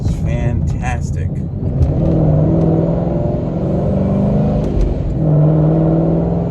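A Procharger-supercharged Mustang engine revs and pulls hard under acceleration, its rumbling pitch climbing, easing through a shift, then climbing again, loud and close.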